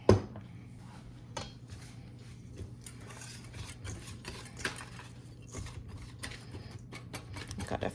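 A whisk mixes baking powder and salt in a bowl, a soft continuous scraping and rattling with light irregular clicks, close and quiet.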